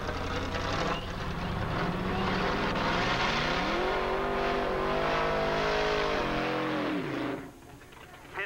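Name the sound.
pickup truck drag racing at Edinburg International Dragway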